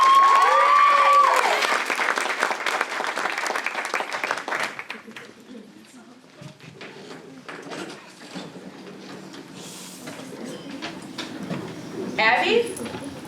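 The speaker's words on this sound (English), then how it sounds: "And can just give them a round of applause." A theater audience gives a burst of dense applause that lasts about five seconds, then dies away into quiet stage rustles, soft voices and scattered clatter as the scene begins.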